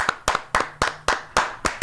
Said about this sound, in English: Round of applause, everybody around the room.